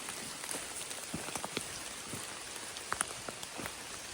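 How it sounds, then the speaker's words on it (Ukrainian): Rain falls steadily in a forest, soft patter of drops on leaves and ground with scattered louder individual drips, fairly close and continuous, no voices. "Ой, дощить."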